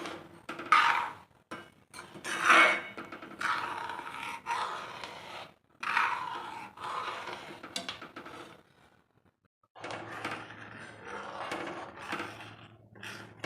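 A spoon stirs a pot of Gujarati okra curry with fresh coriander just added as the flame is turned off, giving intermittent scraping and clinking bursts against the metal pot, fairly close, with brief quiet gaps between strokes.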